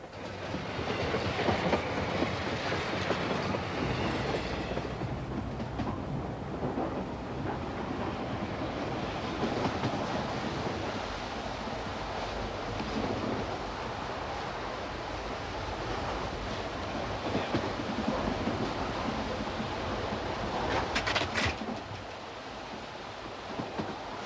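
The Sunlander passenger train runs on rails between Rockhampton and Cairns, with a loud, continuous rolling rumble and clickety-clack of wheels close by that lasts throughout, without talk.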